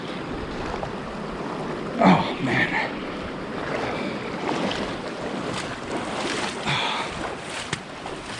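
Cold, deep stream rushing across a trail during a 50k mountain trail race in Crown King, Arizona, a steady broadband wash of water with wind noise and a few splashy bursts, while a runner briefly mutters.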